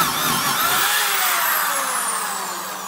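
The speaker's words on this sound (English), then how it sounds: "Just got a half inch twist drill just to show, you know, pretty quick, even at 2500 RPM" A DeWalt D21009 corded drill spins a half-inch progressive-flute twist bit into wood at about 2500 RPM, a loud, close, continuous whine that holds steady and eases off slightly at the end.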